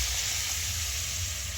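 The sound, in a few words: water poured into hot pan of fish-head cabbage curry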